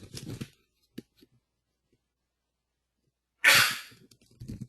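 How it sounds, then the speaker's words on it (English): A single sharp sneeze bursts out loud and close in a quiet room, preceded by a brief breathy intake and a few soft noises, with a short bit of speech just after. "sorry, I have to sneeze."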